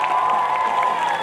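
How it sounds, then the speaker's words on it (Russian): A concert audience applauds and cheers in a dense, continuous wash of clapping and shouts, steady and fairly loud across the short moment, heard on its own without speech. "Аплодисменты провинции Лимония."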